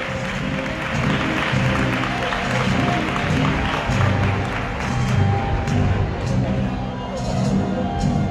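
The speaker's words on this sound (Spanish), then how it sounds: "Vamos a Mare de Cuenta con un fuerte aplauso." Audience clapping at an outdoor Valencian traditional costume fashion show, a loud, sustained burst of many hands with crowd murmur and some low rumbling underneath, lasting several seconds.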